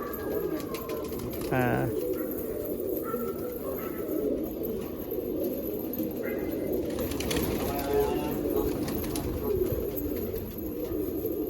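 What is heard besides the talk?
Madras pigeons cooing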